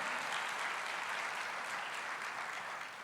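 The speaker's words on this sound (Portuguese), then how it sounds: "vamos aplaudir ao Senhor" Church congregation applauding during a Portuguese-language sermon, a dense, even wash of clapping from many hands at a moderate distance, sustained without pause.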